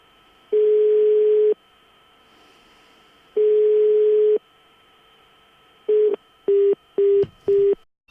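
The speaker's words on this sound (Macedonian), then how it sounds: "на мобилниот телефон на Дудуш, не одговараше и исклучуваше." Mobile phone line tones for an unreachable, switched-off number: two long steady beeps of about a second each, then four short rapid beeps, clean and alone over a faint line hiss.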